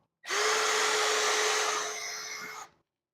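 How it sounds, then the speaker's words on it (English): A power drill runs steadily for about two seconds, driving screws into a French door frame during installation, then winds down and stops, loud and close with no talk. "let me try to tighten up all these screws"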